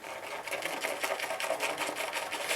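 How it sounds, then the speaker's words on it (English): A shaving brush briskly whipping tube shaving foam into a lather, a close, quiet, rapid rhythmic swishing that repeats steadily throughout. "the more you lather, obviously, the more you stir it, the more shaving foam you're gonna get"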